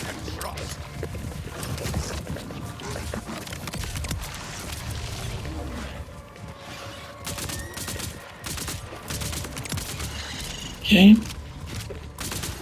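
Bursty SMG fire from Borderlands 4 rattles in repeated volleys beneath a talking voice, with a louder spike of sound near the end.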